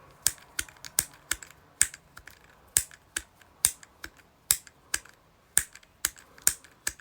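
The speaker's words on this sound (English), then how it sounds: "This is the flick switch." A rocker flick switch fidget toy is flicked back and forth, giving a string of crisp, sharp clicks at a fairly even pace up close, with no talk.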